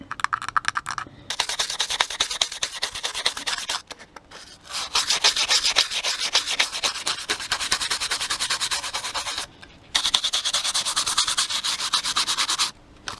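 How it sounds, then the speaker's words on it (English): A moist toothbrush scratches and chips paint off a miniature wargaming walkway, producing steady dry scrubbing strokes in long bursts with brief pauses, close and fairly loud with no talking. "Now we take a moist toothbrush and start to chip away at the paint."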